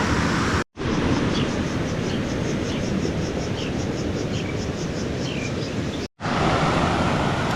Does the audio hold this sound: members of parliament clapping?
no